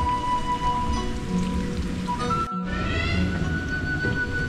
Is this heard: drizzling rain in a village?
yes